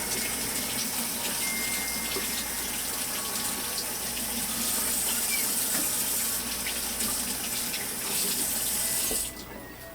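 Steady running water from a kitchen tap splashes into a sink as a pan used for lobster and shrimp scampi is rinsed, a continuous close hiss and patter for nearly the whole stretch before cutting off near the end.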